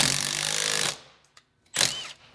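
Impact wrench driving a bolt held in a vise, a loud, close, rapid hammering burst lasting about a second, a pause, then a second short burst.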